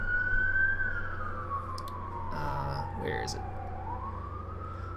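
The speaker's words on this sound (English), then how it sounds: "You can hear the sirens going by all the time." A siren on a passing emergency vehicle near a main road, one long wailing tone sliding down and back up, moderately loud and steady throughout, with faint clicks and a brief spoken question over it.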